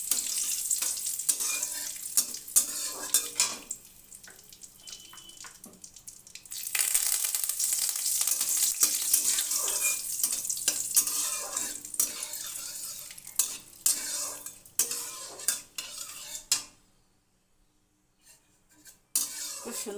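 Curry leaves, cumin seeds and chilli frying in hot oil for a ridge gourd dish, a loud hissing sizzle with repeated spoon scrapes against the pan, fading to near silence near the end.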